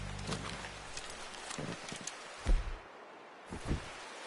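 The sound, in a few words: horse in the video game Red Dead Redemption II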